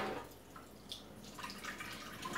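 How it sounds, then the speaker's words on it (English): A food container is rinsed out under a running kitchen tap, with a quiet, close wash of water and a few faint splashes and drips over about two seconds. "Efficient washing here"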